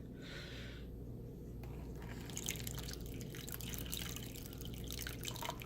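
Aquarium water from a 90-gallon tank is poured and dribbled into a fish bag in a soft, close, steady trickle with small splashing drips.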